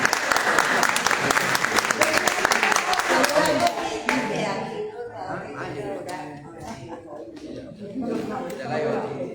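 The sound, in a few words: audience applause at a book launch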